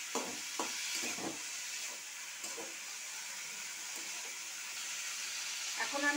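Cumin powder and spices frying in a pan while being stirred, a soft steady sizzle with faint intermittent scraping of the spoon, quiet and close.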